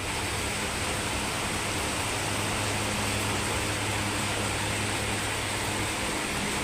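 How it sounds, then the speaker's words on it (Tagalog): A river overflowing with seawater during Typhoon Carina gives a steady, dense roar of rushing water, with no voices. "mapaw na yung tubig o. Ayan yung tubig na yan, galing dagat yan."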